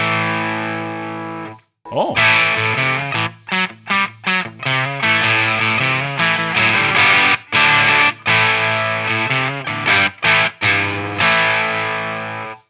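An electric guitar runs through a distortion pedal with the gain turned down, giving a gritty overdriven tone: a sustained chord, then a series of choppy strummed chords with abrupt stops, loud and close, with a brief exclamation.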